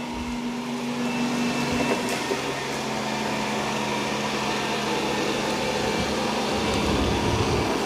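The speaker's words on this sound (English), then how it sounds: "Now it's lifting the mop pads when it senses carpet, and it's vacuuming only." A Eureka J15 Pro Ultra robot vacuum runs over carpet with its mop pads lifted, giving a steady, fairly loud broadband whir of suction and brushes with no talk.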